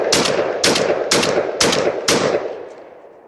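A MAC-1014 shotgun, a Benelli clone, fires a string of loud, close blasts, five sharp reports in quick succession about half a second apart, each with a ringing decay that fades after the last shot.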